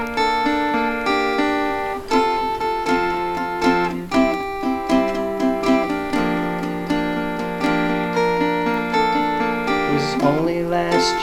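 An acoustic guitar picks and strums a song at full speed, with bright, ringing arpeggios in a steady groove, played close and unaccompanied with no voices.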